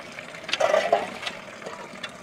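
Short splashy gushes of water pouring from a hand pump in uneven bursts, close by, fading to a softer trickle.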